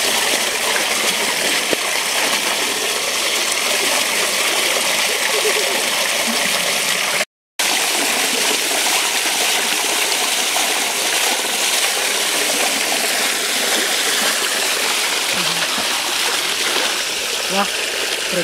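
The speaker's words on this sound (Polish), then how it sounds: "Wodospadzik, o właśnie." A small waterfall at a spring splashes and rushes continuously as a steady broadband wash of water, broken only by a brief gap; people talk over it now and then.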